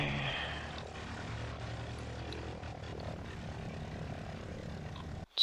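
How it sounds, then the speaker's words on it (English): A US fighter's piston engine in War Thunder drones steadily at moderate volume, throttled back on approach to a carrier landing, with a brief click at the very end. "Let's turn down the engine sound a little bit."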